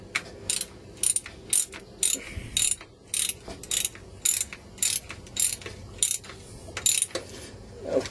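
A ratchet clicks in steady bursts while tightening the fuel pump bolts on a 1984 Pontiac, about a dozen short rhythmic cranks, close and loud.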